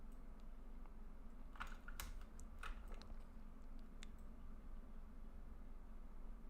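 Computer keyboard typing during a web development study session, a quiet scattered burst of key clicks in the middle, set against steady low room hum with no talking.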